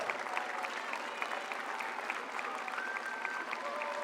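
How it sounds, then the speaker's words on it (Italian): Crowd of spectators applauding steadily at a volunteer fire brigade open day in Mirano, Italy, with dense continuous clapping and a few faint whistles. "Forte l'applauso Milano!"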